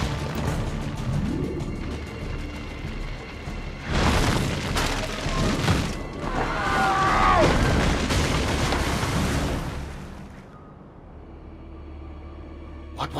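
Booming firecracker blasts go off in a street scene in the Assassin's Creed 2 game, loud bursts of explosions and crackling around the middle, fading to quiet near the end under faint ambient noise.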